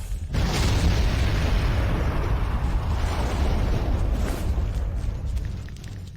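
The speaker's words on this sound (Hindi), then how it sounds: "यहाँ हर तरफ धमाके हो रहे हैं।" Explosions tear through a building in a film scene, a heavy sustained rumbling blast that swells loudly and slowly fades, with no speech over it.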